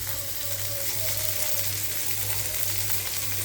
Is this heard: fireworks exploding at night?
no